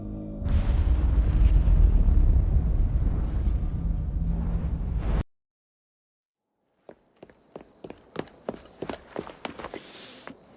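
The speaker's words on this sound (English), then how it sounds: "What was that explosion?" A loud, sustained explosive rumble from an Assassin's Creed Syndicate cinematic roars for several seconds, cuts off abruptly to silence, then scattered sharp clicks and footsteps follow.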